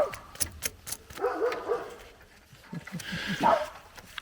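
A dog barks several times with yips and whimpers in between, moderately close, with quiet gaps between the sounds.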